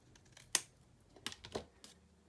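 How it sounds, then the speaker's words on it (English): A few sharp snips as scissors trim paper for a Christmas scrapbook folio, one crisp cut followed by several softer ones, close and quiet with no talking. "I need to trim it just a little bit"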